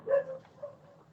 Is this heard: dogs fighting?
yes